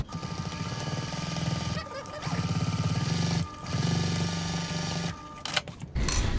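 A sewing machine runs in steady bursts, stitching a seam through pocket fabric on a travel sling bag, with brief pauses between runs and a few handling clicks near the end.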